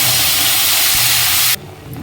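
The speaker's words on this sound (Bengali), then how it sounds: "এবার আমরা পেঁয়াজ বাটাটা দিয়ে দিচ্ছি।" Onion paste tipped into hot mustard-style fish-frying oil already tempered with spices, bursting into a loud, steady sizzle that cuts off sharply after about a second and a half, leaving a quieter background.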